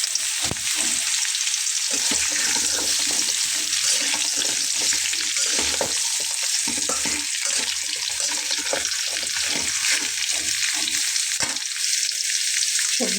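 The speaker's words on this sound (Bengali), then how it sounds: "এখানে আমি জিরাটা ফোড়ন দিয়ে নিয়েছি। তার ভেতরে এখন আমি সবজিগুলোকে দিয়ে দিচ্ছি।" Vegetables hiss and crackle as they hit a cumin tempering in hot oil for a Bengali lunch dish, a loud continuous sizzle broken by repeated stirring scrapes.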